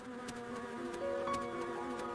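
A steady, close drone of bees buzzing outdoors at a picnic, several insects humming together with small swells in pitch as they move, continuous and alone without talk.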